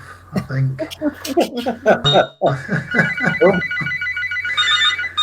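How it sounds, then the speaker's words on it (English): A telephone ringtone cuts in partway through a person's speech, then repeats as a steady electronic ring after the talking stops. "Oh, sorry, that's my phone."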